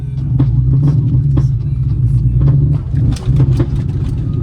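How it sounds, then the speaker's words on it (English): An Infiniti G35 with a fault idles after warming up, giving a steady low engine rumble throughout with small fluctuations and a brief dip near the end, close and loud with no talking. "Since the car warmed up, it can actually idle now."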